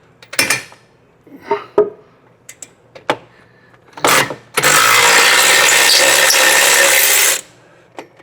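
Power tool breaking loose a brake caliper bolt on a 1988 Porsche 911, several sharp metallic clanks and knocks, then a loud continuous whir of about three seconds, close by.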